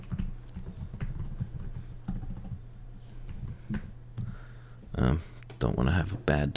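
Rapid keyboard typing clatters in bursts under a steady hum, with a person speaking briefly near the end.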